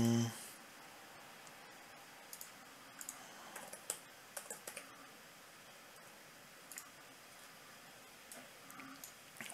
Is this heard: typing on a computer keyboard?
yes